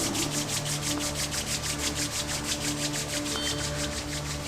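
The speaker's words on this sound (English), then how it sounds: "Rub your palms." Palms rubbed briskly together in a steady back-and-forth rhythm during a prenatal yoga session, close and fairly loud, with no talking.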